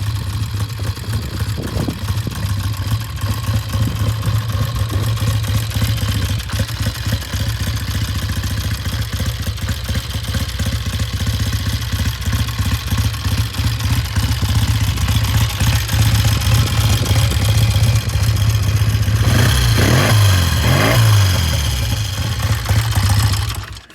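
A 1966 Triumph T90 350cc motorcycle engine idles with a loud, steady, throaty burble close up, then revs sharply a couple of times near the end.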